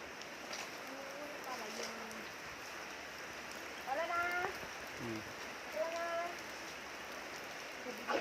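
Light rain falls under an overcast sky, a steady soft hiss throughout, with faint voices or chirps rising briefly in the background.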